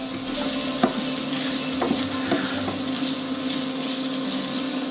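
Finely diced garlic cooking with onions in a pan, a steady soft sizzle with a few light scrapes or stirs, close and continuous with no talking.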